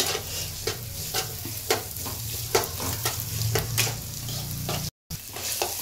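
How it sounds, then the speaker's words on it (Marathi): Onion frying with a little salt in a pan, stirred now and then: a constant close sizzle with intermittent scraping strokes, a momentary dropout near the end, and nobody speaking. "कांदा पण आपल्याला चांगला फ्राय होऊन द्यायचा आहे आणि थोडंसं मीठ टाकायचं आहे त्याच्यामध्ये।"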